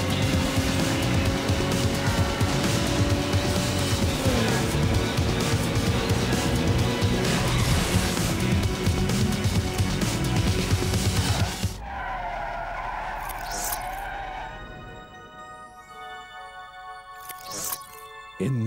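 Cars skid and screech through a race in the video game Need for Speed Underground, loud continuous engine roar and tire squeal for most of the stretch, then the racing sound cuts out and gives way to quieter tonal game music and effects.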